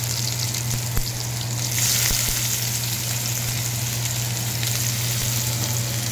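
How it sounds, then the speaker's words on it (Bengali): Chopped onion fries in oil left in a pan after capsicum was cooked for korai paneer, a dense, even sizzle held close and loud throughout, with a low steady hum beneath. "ক্যাপসিকাম পেঁয়াজটা তুলে রাখার পর আমি ওই তেলের মধ্যে দিলাম কিছু পেঁয়াজ কুচি"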